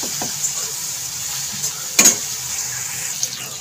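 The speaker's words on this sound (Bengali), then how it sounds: "জিরেটা আর নুনটা দিয়েও আমি আবারও খুব ভালো করে এটাকে কষাতে থাকবো" Spices with cumin and salt sautéing in a pan, a steady close sizzle with a few stirring scrapes and one sharper clatter of the utensil midway.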